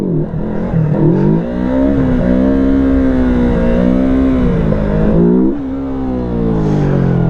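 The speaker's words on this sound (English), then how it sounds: "you give it just a little bit more throttle" A motorcycle engine held in a wheelie, revving up and down in several smooth swells of throttle, loud and close, with a brief dip before the revs rise again; no talking.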